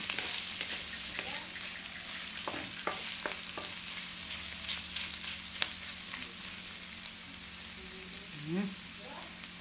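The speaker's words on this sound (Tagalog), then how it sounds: "Ginisa niya muna yung mga sangkap." Sautéing ingredients in a pan for a home-cooked dinner dish: steady sizzling with stirring scrapes and clinks of a utensil against the pan, fairly close, with a brief voice near the end.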